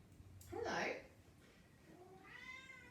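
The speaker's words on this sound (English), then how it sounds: "Cat wants to go outside." A cat meows to be let outside, a quiet mid-distance call in a room where an exercise class instructor talks, followed by a second faint, drawn-out meow.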